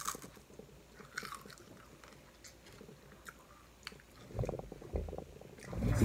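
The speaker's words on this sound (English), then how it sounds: "And the crunchiness, you hear it." Crunchy bites of spicy Jollibee fried food being chewed close up, with irregular soft crunches through the clip that grow louder and denser toward the end.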